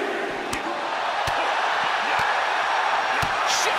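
Arena crowd noise from the WWE 2K22 wrestling video game, a steady loud roar of cheering spectators with a few sharp thuds and slams cutting through during a SmackDown mixed tag team match.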